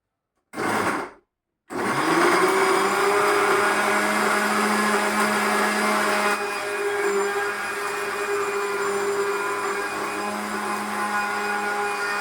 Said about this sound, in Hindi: सारे आंवलास को मैंने थोड़ा सा ऐसे रफली चॉप कर लिया था और इस ग्राइंडर जार में डाल दिया था, और साथ में मैंने 2 ले लिए थे बीटरूट